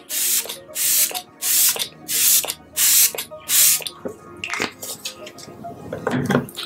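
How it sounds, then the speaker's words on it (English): Six quick hissing bursts of a makeup setting spray bottle come in an even rhythm close up, followed by a few light clicks and soft handling sounds. "I'm going to be going in with the Morphe Luminous Setting Spray."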